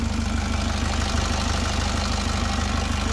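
A car engine idling in snow gives a steady, even rumble with a regular low pulse, loud and close, running alone without any talk.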